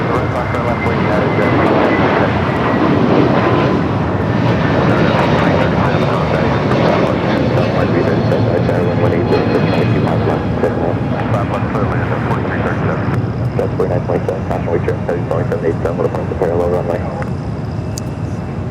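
A jet airliner takes off from runway 25 right at Los Angeles International Airport, a loud sustained engine roar that slowly fades, heard over radio chatter.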